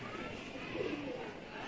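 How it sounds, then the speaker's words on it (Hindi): Pigeons give soft, low cooing on a Lahore rooftop under a large net enclosure used for pigeon keeping, faint against a steady background hum. "ये देखिए लाहौर की आपको कबूतरबाजी दिखाते हैं"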